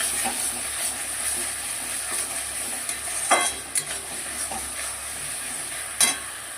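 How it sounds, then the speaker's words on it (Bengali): Spice paste with tomato frying and being stirred in a pan for a fish curry, a steady soft sizzle with occasional scraping strokes of the spoon, close and moderately quiet, no talking. "এবার মশলাটাকে ভালো করে একটু কষাবো"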